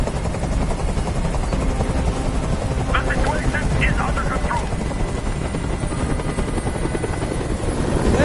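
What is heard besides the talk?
helicopter hovering in Detroit: Become Human video game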